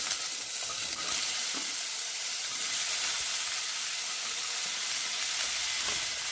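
Vegetables hit hot fried spices in a pan, giving a loud, steady sizzle and frying hiss with occasional stirring scrapes throughout.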